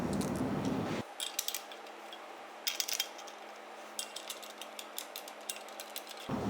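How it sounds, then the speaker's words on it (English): Four bolts are dropped into place and tightened into a melamine table top on a Roma table base, giving sparse light metallic clicks and small scrapes against a quiet room. "Now, once you've got that lined up, just pop your 4 bolts in."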